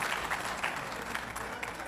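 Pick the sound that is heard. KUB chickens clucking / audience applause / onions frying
audience applause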